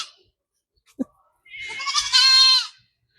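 A goat bleats once in a rural village field, a drawn-out, wavering nasal call at close range, preceded by a brief soft knock in an otherwise quiet outdoor setting.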